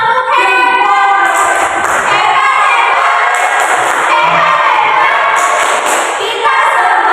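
A class of fifth-grade children performs a loud rhythmic tepuk hebat clapping chant, their voices shouting in unison with claps and thumps throughout.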